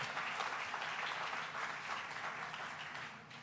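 Dense, steady applause from a large audience at the opening of the Tribeca Film Festival fills the clip, a continuous wash of clapping that fades slightly at the end.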